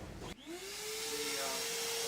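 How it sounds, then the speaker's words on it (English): A vacuum cleans out one half of an aluminum casting mold with resin inside. Its motor starts with a short thump, rises quickly to a steady whine and keeps running loud and close. "I'm going to vacuum off"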